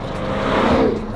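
A Jaguar F-Type R, 2021 model, gives a brief, loud, close engine roar as it accelerates, rising slightly in intensity over a second.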